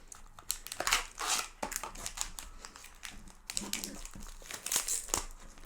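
Crinkly wrapper of a dark Dubai chocolate bar being torn and pulled open by hand, a close, busy run of crumpling and ripping bursts with short pauses.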